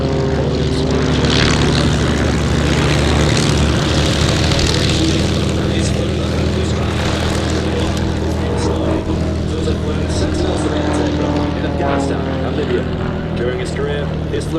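A Grob Tutor propeller plane performs aerobatic maneuvers at an airshow, its steady loud droning engine sustained throughout with shifting pitch as it climbs and turns, while a commentator's voice runs over it.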